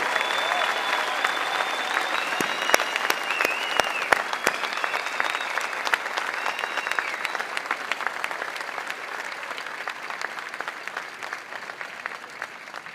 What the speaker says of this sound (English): Can I ask you to please give another round of applause to our graduates?